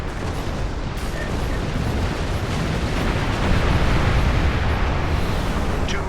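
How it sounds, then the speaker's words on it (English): Missiles streaking out toward a Starfleet troop transport in Star Trek Online, a loud, continuous roaring rush of launch noise that holds steady for several seconds with no talking. "Two missiles just launched to transport Beta 1."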